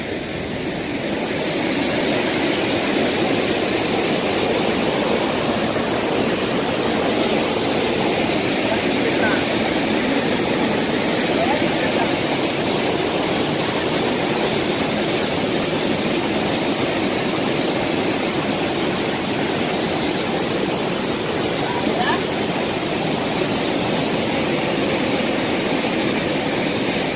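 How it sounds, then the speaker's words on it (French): Lobé Falls near Kribi, a river waterfall pouring straight into the sea, roaring as a loud, dense, unbroken rush of water that fills the whole stretch without pause. "Voilà, les chutes de la Lobée."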